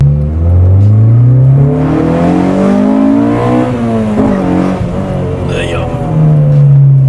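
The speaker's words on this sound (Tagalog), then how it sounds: "Huni nung makina, no?" Honda Civic SiR engine revs loud and close, its pitch climbing steadily, easing off, then rising again in a smooth sustained whine, with voices faintly underneath.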